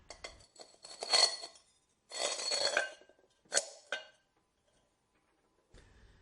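A metal washer and a small metal pot are set onto a bolt for a homemade heater, giving several short metallic clinks and scraping taps in separate bursts, close and fairly quiet, with silence between them.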